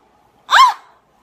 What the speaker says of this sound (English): And now she's yawning.